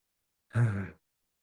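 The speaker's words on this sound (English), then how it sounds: "Lots of yawns in the room." A single breathy yawn or sigh rises and fades within half a second, close and soft, coming from someone in a room during a guided breathing session, surrounded by silence.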